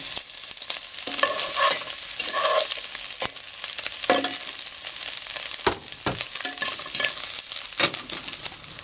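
Macaroni soup ingredients are stirred in a cooking pot after the chicken is taken out, giving a steady wet sizzle broken up by scraping and clinking strokes of the spoon, close and moderately loud, with no talking.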